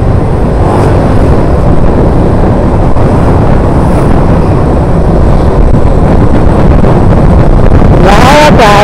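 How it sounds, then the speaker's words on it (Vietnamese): Strong gusty wind before rain buffets the microphone with a loud, continuous low roar, on a street in District 4 of Ho Chi Minh City, with a faint passing vehicle toward the end. "Nó là gió, trời gió luôn."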